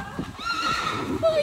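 A horse gives a short, bright whinny close by while people talk excitedly over it.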